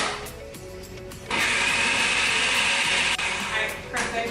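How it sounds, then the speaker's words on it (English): An olive oil and herb marinade whirring in a blender, a steady high motor whine that surges louder after a second and runs on with slight dips in pitch, with no talking. "We're just gonna go ahead and blend this up."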